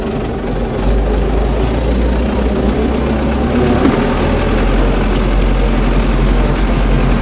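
Tractor towing a freshly assembled field sprayer pulls out onto a road, its engine a loud, steady diesel drone with heavy low rumble and some rattling, close by and continuous without talk.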